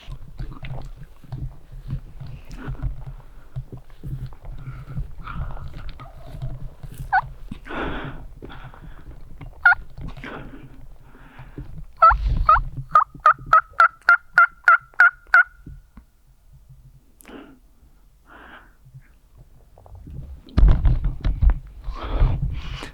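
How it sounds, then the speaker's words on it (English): A wild Merriam's turkey gobbles in the open at a moderate distance, a loud rapid rattling burst near the middle standing out clearly, with a few quieter calls and soft rustling and handling noise around it. "there's a bird gobbling"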